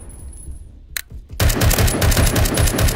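Rapid automatic gunfire in a shooter video game, a few isolated cracks after a quiet start, then a loud sustained stream of fast, evenly spaced shots.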